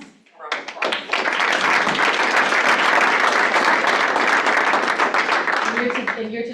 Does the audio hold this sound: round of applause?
yes